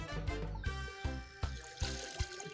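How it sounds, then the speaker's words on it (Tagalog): Beef ribs being rinsed under running water, with repeated sloshing and splashes as the meat is handled, close and fairly steady for a few seconds. "bago natin siya lutuin, syempre hugasan muna natin mabuti yan"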